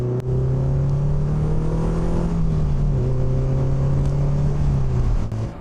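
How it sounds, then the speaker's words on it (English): A 2006 PGO Speedster 2 engine droning steadily while driving, a loud constant low hum with a slight pitch rise and dip as the car holds speed, no voices. "the car I'm in right now is a PGO Speedster 2"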